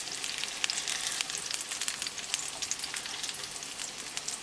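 Lamb chapli kebab patties fry steadily in a pan, a dense, continuous crackling sizzle with sharp spitting pops, close and loud with no voices.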